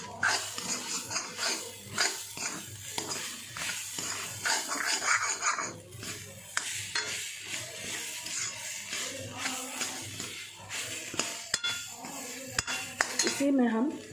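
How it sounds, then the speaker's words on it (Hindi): Bhatt ke dubke roasting in a pan, with a steady run of metal spoon scraping and clinking against the cookware, mostly continuous with a few sharper knocks. "इस तरह से भूनने के बाद ये भट के डुबके स्वादिष्ट होते हैं।"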